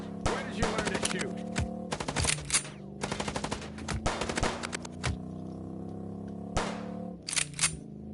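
Rapid bursts of gunfire ring out in the video game Chicken Police: Paint The Town Red, clustered volleys of sharp shots with brief pauses between them, loud and close over a low droning musical bed.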